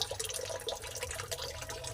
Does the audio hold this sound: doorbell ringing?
no